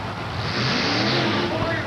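A Chevrolet monster truck's loud, roaring engine fills the air with broadband noise, rising slightly as it launches forward, mixed with crowd and announcer chatter at a 1987 USHRA monster truck event in Pittsburgh.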